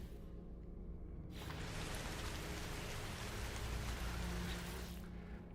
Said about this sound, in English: It's raining acid.